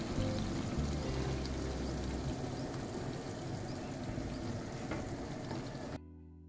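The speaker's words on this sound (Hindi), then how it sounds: "अब हम इसमें ये पानी शामिल करेंगे जो कि चनों को बॉईल करते वक्त हमने उसमें ऐड किया था।" A cup of reserved chickpea boiling water is poured into a chole (chickpea curry) cooking in a pan, giving a steady, close, loud rush and sizzle that runs for about six seconds before stopping abruptly.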